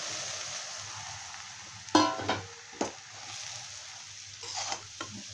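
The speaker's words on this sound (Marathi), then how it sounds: "मस्त हलवून घेऊ आणि हे चुरलेल्या चपात्या त्यामध्ये टाकून घेऊया।" Crushed chapati being stirred with homemade masala in a pan, a low sizzle underneath a few sharp scraping and clattering strokes of a spoon against the pan, spaced irregularly and close.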